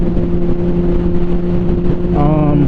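A 2006 Honda CBR1000RR Repsol sport bike fitted with a Healtech quickshifter drones loudly while riding, a steady close engine hum with wind noise that rises in pitch near the end.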